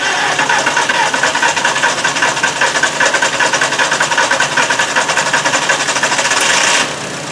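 A 2000 Volkswagen Beetle with the 1.8T engine cranks without starting, a loud rapid rhythmic churning of the starter that holds steady for about seven seconds and then stops abruptly.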